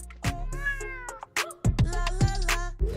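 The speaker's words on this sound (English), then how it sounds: "Where's the cat?" A cat meows repeatedly at close range, several drawn-out, tonal calls with short gaps between them, loud and clear with no talking.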